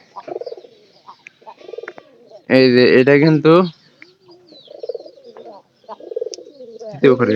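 Domestic pigeons coo in a loft, one loud close bout in the middle and softer repeated coos around it, while someone speaks briefly.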